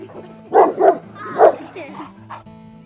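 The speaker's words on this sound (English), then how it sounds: "That's our grandparents' dog." A large dog, a Bernese mountain dog and St. Bernard cross, gives three loud, close barks in quick succession, then softer yips and whimpers over a faint hum.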